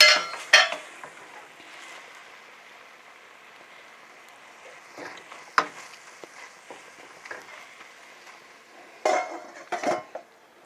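Onions cooking in a pot while being stirred, with scattered clinks and scrapes of a utensil against cookware over a low simmer, busier bursts near the start and end.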